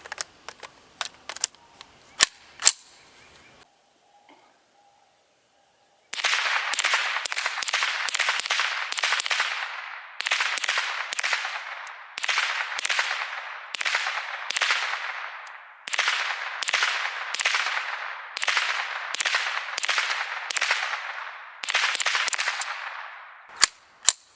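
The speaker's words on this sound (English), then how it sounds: "we got the Banish 9K suppressor on my Ruger. Loaded up with more supers." A suppressed Ruger 10/22 fires supersonic .22LR rounds through a Banish 9K suppressor, about fifteen sharp cracks in rapid, steady succession after a few quieter clicks and handling noises, close and loud with no talking.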